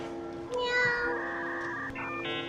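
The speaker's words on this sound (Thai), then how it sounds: "แคตตี้ นี่เสียงแมวเป็นเบอร์" A cat meows in drawn-out, wavering cries, fairly close, over low background noise.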